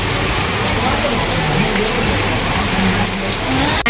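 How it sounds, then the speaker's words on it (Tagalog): Heavy rain pours down steadily in a dense, even hiss that fills the air, loud and close, with a voice talking faintly beneath it. "ang lakas ng ulan"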